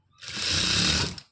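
A sewing machine stitches the fall onto a saree in one continuous burst of whirring, steady and close, rising quickly and cutting off after about a second.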